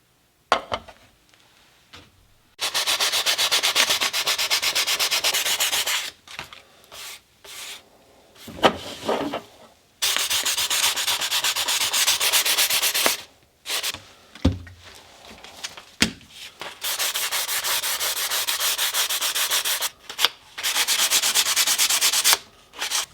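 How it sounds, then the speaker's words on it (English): Hand sanding of a carbon fiber rear engine cover on a B7 Audi RS4 with 180 grit sandpaper, loud close raspy back-and-forth strokes in long bursts separated by short pauses. "Begin by sanding the rear engine cover with 180 grit sandpaper, going gently around the emblems."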